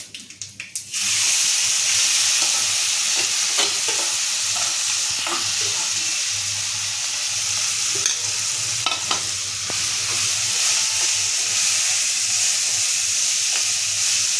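Thecha chili paste with a pinch of asafoetida frying and being sautéed in a hot pan, a loud steady sizzle with scattered scraping clicks of stirring throughout, no voices.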